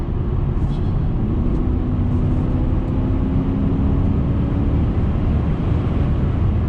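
A 2008 Volvo S80 with its V8 engine pulling hard at speed: a loud, steady low rumble with a rising engine tone over heavy road and wind noise inside the cabin.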